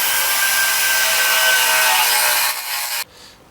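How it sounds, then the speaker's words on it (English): A steady, loud grinding whir of a drill boring into wood, running continuously before slowing and cutting off near the end. "I'm just going to drill it with this"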